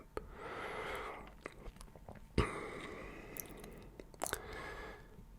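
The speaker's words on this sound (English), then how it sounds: "He's looking very serious with the chewing gum there, and he does like chewing gum." A man chews gum at a gym. The chewing is close and soft, with wet smacking and a few sharp clicks over steady room hiss.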